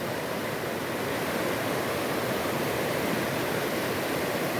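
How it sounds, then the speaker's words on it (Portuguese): A small waterfall rushing in a steady, dense, unbroken roar of falling water, close and constant throughout with no voices. "O barulho da cachoeirinha gostoso."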